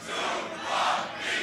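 A crowd at a beatbox battle shouts together in unison, with two loud swells of many voices joining in a countdown.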